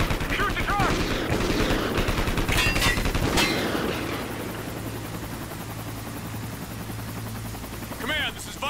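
A helicopter in a Call of Duty Ghosts battle scene, its rotor thrum loud and near amid bursts of gunfire, fading to a steadier drone, with shouted voices over it.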